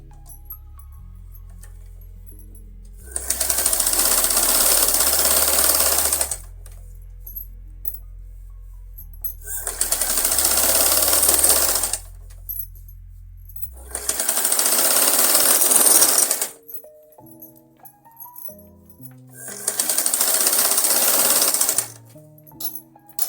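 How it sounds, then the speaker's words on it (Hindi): A sewing machine runs a dummy stitch along an inner fabric strip of a kurti in four steady bursts of close, loud whirring, separated by short quiet pauses. "इसके ऊपर हमने एक डमी सिलाई लगानी है।"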